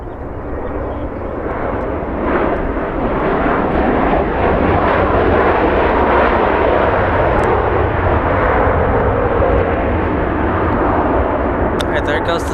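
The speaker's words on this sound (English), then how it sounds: "Goes the 737 MAX from Vancouver" An Air Canada Boeing 737 MAX arriving from Vancouver lands at LAX with a loud, steady jet roar that swells early and holds near and broad throughout, a voice talking briefly over it.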